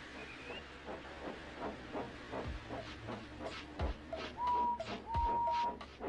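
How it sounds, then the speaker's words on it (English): A steam engine in a Trainz railway simulation puffs away with a rhythmic series of chuffs over a steady hiss of steam, with a few short whistle-like tones mixed in, at moderate volume and with no talking. "So they lit his fire, made lots of steam, and Edward puffed away."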